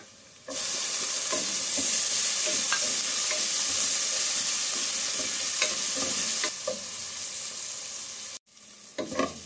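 Sliced onions sizzle loudly in a hot pan while a spoon stirs them, making a steady bright frying hiss broken by scraping strokes, before the sound drops off sharply near the end.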